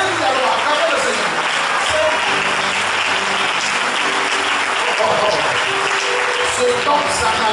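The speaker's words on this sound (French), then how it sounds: "Put your hands together for the Lord." Congregation clapping together during a church service, a dense sustained applause that fills the whole stretch at steady loudness without breaks.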